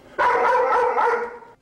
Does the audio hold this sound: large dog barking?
yes